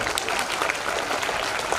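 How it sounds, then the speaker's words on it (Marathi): Loud, sustained audience applause at a district science exhibition opening ceremony in Amravati, a dense continuous roar of many hands clapping, close and full throughout. "एकदा जोरदार टाळ्या यांच्यासाठी व्हायला."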